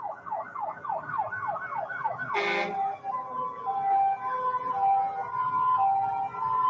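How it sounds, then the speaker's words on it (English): A Riverdale Fire Department engine passes in a street parade in Dolton, its siren wailing in quick rising sweeps before a sharp air-horn blast. Steady alternating siren tones follow, moderately loud and fairly near. "Here's the Riverdale Fire Department coming through."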